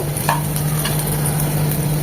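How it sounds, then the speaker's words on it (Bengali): Chopped garlic and ginger fry in hot oil with a steady close sizzle and faint stirring scrapes of a spatula in the pan, alone without voices, alongside a constant low electrical hum. "রসুন কুচিটা এক মিনিট ভাজার পর দিয়ে দিচ্ছি আদা কুচি সেটাকেও দশ বিশ সেকেন্ড ভেজে নেব"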